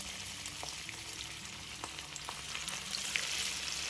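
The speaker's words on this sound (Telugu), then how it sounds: "ఆయిల్ బాగా వేడయ్యాక మనం తయారు చేసుకునే ఈ వడల్ని దీనిలో వేసుకోవాలి" Rice flour vadas deep-frying in hot oil produce a soft, even bubbling sizzle with scattered tiny pops, fairly quiet and steady, no voices.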